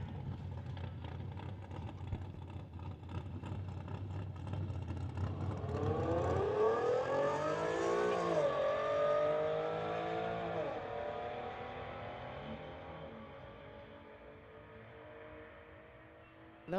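Infiniti and Tesla cars launching side by side at a street-legal drag strip: a low rumble builds into a loud rising engine whine around the middle and then fades into the distance.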